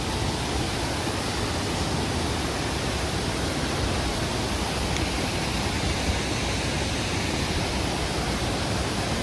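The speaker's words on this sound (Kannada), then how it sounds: "ಫ್ಲೋ ಭಯಂಕರ ಇದೆ ನೀರು." Strong rushing water at a river bathing spot on the Bangalore to Munnar route, a dense, steady roar that fills the whole stretch without a break and with no voices.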